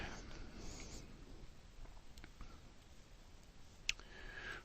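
A computer mouse clicks in Statcrunch. It is quiet overall: a few faint ticks sit over a soft hiss, and one crisp, distinct click sounds near the end.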